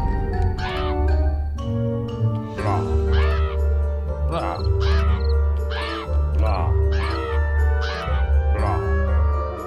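Crow caws repeating in a steady series of harsh calls every second or so, loud over continuous low game music and ambience in the video game Pumpkin Jack.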